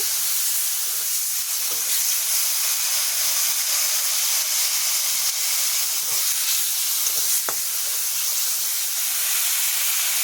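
A ginger and green chilli paste sizzles steadily in a hot pan while being sautéed, a loud continuous hiss with a couple of faint stirring knocks and no talking.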